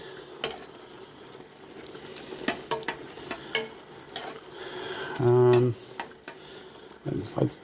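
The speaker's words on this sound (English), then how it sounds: "Give that a nice little mix in there" A spoon stirs porridge in a pot, giving soft scraping and occasional clinks against the sides, quiet and intermittent, while a person talks over it.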